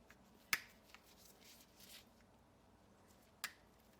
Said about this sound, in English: So I'm just going to cut it off with the clippers.